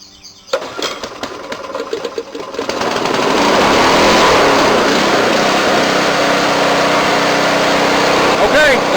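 Briggs & Stratton engine on a Craftsman garden tiller, just after a carburetor cleaning, catches and runs steadily with the choke off, a loud continuous mechanical drone filling the clip after a short sputtering start.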